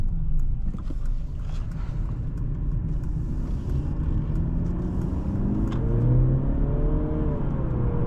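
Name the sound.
2025 Mercedes-Benz C 300 accelerating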